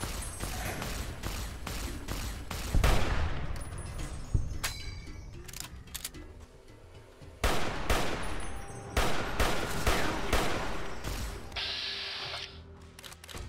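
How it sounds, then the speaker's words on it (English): Rifle gunfire in the video game Fallout New Vegas, sharp shots in irregular bursts with mechanical clicks and reloading sounds between them, loud and close with no talking. "Let me just get my longer range rifle. We could probably just gun this guy down."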